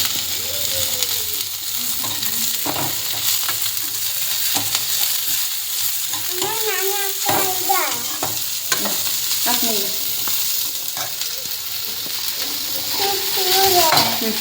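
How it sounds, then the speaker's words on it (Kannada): Capsicum is stir-fried in a pan for vegetable fried rice: steady sizzling and frying with repeated spatula scrapes and clanks against the pan, while a voice speaks intermittently over the cooking. "ಇವಾಗ ನಾನು ಕ್ಯಾಪ್ಸಿಕಮ್ ಹಾಕ್ಕೊತೀನಿ."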